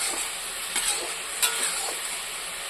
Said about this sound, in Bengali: তো চিংড়ি মাছগুলো আমি কড়াই দিয়েছি মাছ ভাজার পর।